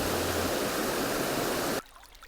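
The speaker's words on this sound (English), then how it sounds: "What is left is the brook meandering through the site of the pond" Bentley Brook flows through the wooded Lumsdale Valley in Derbyshire, a steady, close rushing of water that cuts off abruptly near the end.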